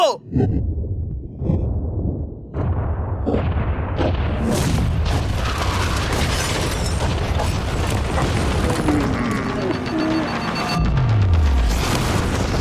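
A yacht blown up by an explosion: a deep booming blast at the start followed by a long, loud rumbling roar and crackling debris, with excited voices mixed in.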